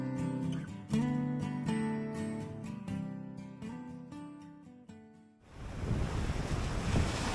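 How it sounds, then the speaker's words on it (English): Music plays for several seconds, then cuts to a steady roar of strong storm wind on Mount Teide, Tenerife, buffeting the microphone, with surf-like rushing underneath. "It's a bit windy today!"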